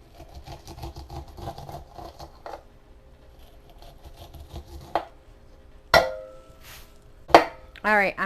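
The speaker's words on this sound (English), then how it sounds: "I'm going to continue to chop my corn off the cob" Corn kernels being chopped off the cob with a knife inside a bundt pan in a home kitchen: a few sharp, separate cutting knocks stand out over a faint, scratchy background.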